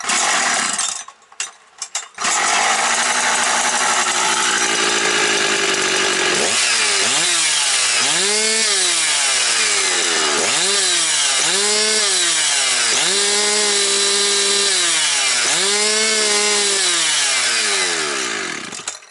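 A Husqvarna 365 chainsaw sputters during a restart, then catches and runs loud and close, revving up and down several times in rising and falling sweeps before holding a steady roar.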